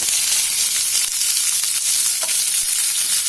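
Chopped onion and green chilli pieces sizzle steadily in hot oil in a pan for a potato fry, a close, continuous hiss with a few faint stirring scrapes and no voices.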